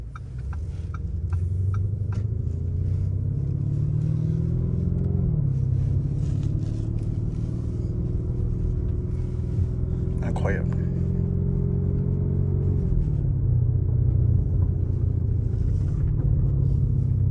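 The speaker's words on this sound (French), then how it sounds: "La conduite c'est vraiment incroyable. Très belle sonorité moteur." Car engine droning steadily while driving, a low continuous rumble with gentle pitch shifts as it rises and eases back, heard from inside the cabin.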